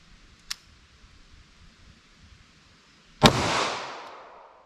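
A single loud, sharp 9mm handgun shot fired into a ballistic gel block outdoors, with a decaying tail after the crack, preceded by a faint click.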